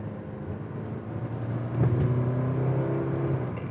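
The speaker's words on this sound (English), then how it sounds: "connected to the CVT transmission, fortunately is kind of noisy. As soon as I get onto the throttle," A 2020 Subaru XV engine paired with a CVT transmission drones steadily, its note swelling as throttle is applied about halfway through and then holding a sustained, fairly loud whirring pitch.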